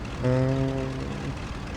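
A MiG-3 propeller fighter in a flight game revs its engine for takeoff in the Moscow winter of 1941, a steady droning hum with rising harmonics that swells for about a second, then fades into a lower rumble.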